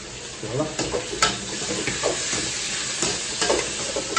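Whole tomatoes sauté in a pan for a spicy brinjal kara kuzhambu, with a steady sizzle and a few louder stirring scrapes, fairly close and with no talk over it.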